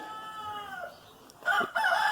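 Rooster crowing and chickens clucking in a homestead chicken yard with turkeys nearby: a stretched crow rises and falls, then loud bursts of clucking and squawking break out close by near the end.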